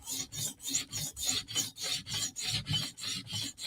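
Steady back-and-forth rasping of a Chris Reeve Sebenza blade drawn across abrasive stones on a TSProf Kadet sharpening system, about a dozen even strokes in a regular rhythm, close and fairly quiet, with no talking.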